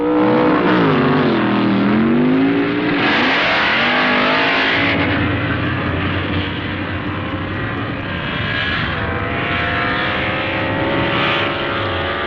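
In the 1969 stock-class drag race finals, a Chevrolet wagon and its rival roar down the strip with loud engines whose pitch rises and sweeps as they shift, continuous and powerful throughout.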